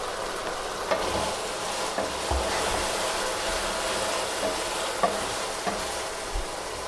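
Pre-fried chicken tipped into a pan of chicken jalfrezi and stirred, giving a steady loud sizzle with occasional soft scrapes and knocks of the spoon throughout.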